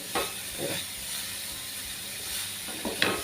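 Soaked fenugreek seeds sauté in ghee with a steady hiss and sizzle, while a spoon stirs and scrapes the pan in a few soft strokes, close and without talk.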